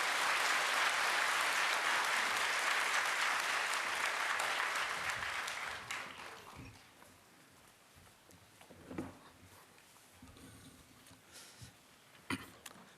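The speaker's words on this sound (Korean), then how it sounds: "여러분 박수로 맞아주시기 바랍니다." Audience applause greeting graduating education evangelists at a Korean Bible training center gathering, loud and sustained for about six seconds before fading into scattered claps and room noise.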